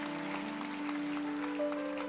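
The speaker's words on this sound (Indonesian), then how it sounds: "beri tepuk tangan untuk Tuhan." Congregation clapping during a church sermon, a steady wash of applause over sustained organ or keyboard tones, moderately distant.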